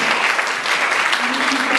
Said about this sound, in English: let's give a clap for our two local ladies